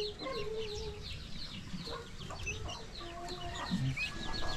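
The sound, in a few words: turkey clucking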